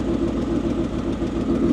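Ford Mustang engine idling at a steady RPM under repair, a continuous close rumbling drone with an even low pulse and no variation in pitch.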